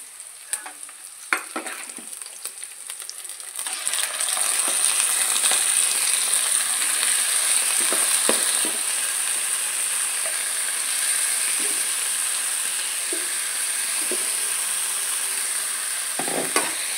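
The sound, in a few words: chicken frying in a pan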